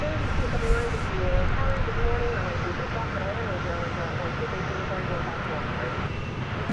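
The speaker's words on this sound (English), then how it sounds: "The Reno Air branded plane" A Reno Air branded airliner passing along a runway at DFW airport, a loud, steady broadband jet roar that holds evenly throughout with no breaks.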